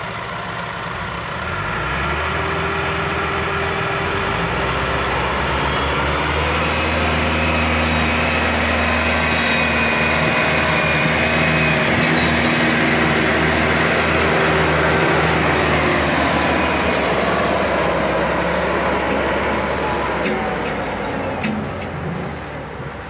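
Heavy Millat and Perkins 375 tractor engines labor under load, pulling a trolley stuck badly in mud, a loud, steady low diesel drone that builds, holds strong for about twenty seconds, then eases off, with no talk over it.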